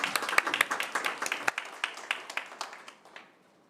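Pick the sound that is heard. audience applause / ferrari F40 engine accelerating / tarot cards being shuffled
audience applause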